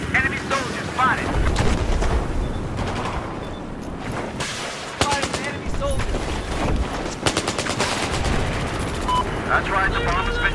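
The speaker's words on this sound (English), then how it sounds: "That's right, the bomb has been dropped." A bomb dropping and exploding in Battlefield 4 amid constant gunfire, heavy booming blasts and rattling shots layered densely throughout, with brief game voice callouts.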